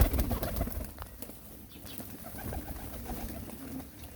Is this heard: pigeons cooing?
yes